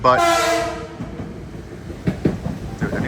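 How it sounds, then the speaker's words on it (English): A train passes near an outdoor level 2 EV charging station: a loud, sustained multi-tone horn blast opens, then rumbling, clattering rail noise continues, with a brief spoken word near the end. "Apologies for the train."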